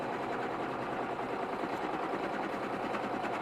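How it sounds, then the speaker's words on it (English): Embroidery-capable sewing machine stitching steadily across fabric to tack pieces down, a constant fast mechanical whir with rapid needle rhythm, fairly quiet and unbroken. "So I'm going to sew right across here just to tack these down."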